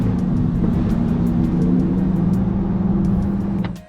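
A Porsche Taycan electric car drives along with a steady, smooth low road and motor hum, close and continuous, fading out at the very end.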